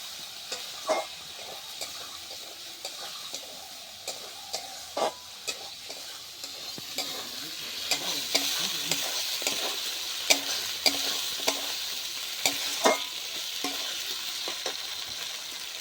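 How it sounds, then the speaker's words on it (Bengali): Fried potatoes are stir-fried in a rohu fish masala curry, a soft steady sizzle punctuated by regular spoon knocks and scrapes against the pan, growing busier toward the end. "ভেজে রাখা আলুগুলো দিয়ে দিব, আবার একটু কষিয়ে এটার মধ্যে জল ঢেলে দেব।"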